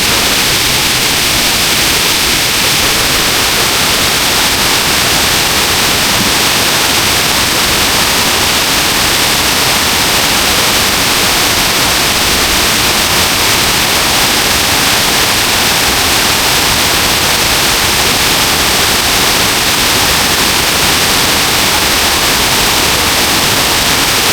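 Erawan Waterfall in Thailand roars as a loud, unbroken wash of rushing water, constant and dense throughout with no pauses or voices.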